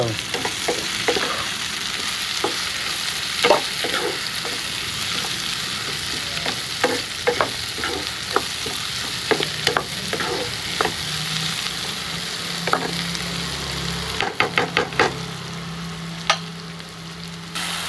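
Onions frying in a pan with garlic, cashew, tomato paste and jackfruit masala, a continuous close sizzle broken by scattered scrapes and stirring clicks, busier clinks near the end.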